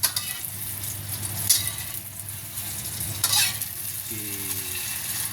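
Beaten egg is scrambled in a frying pan for a budget meal, a steady soft sizzle with stirring scrapes and a couple of brighter spatula clinks, close and alone.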